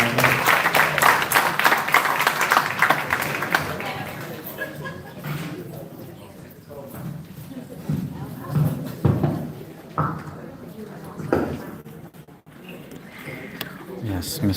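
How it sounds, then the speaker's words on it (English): An audience at a Thornton Township Q and A claps for the candidates. The applause is loud at first, fades after a few seconds into scattered claps, and talk runs over the tail. "Give a round of applause for the candidates"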